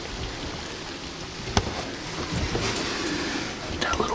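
Rain falls on a sunny day in Pennsylvania woods during early muzzleloader deer season. It gives a steady light patter with a few sharper drips, fairly close, with no talking.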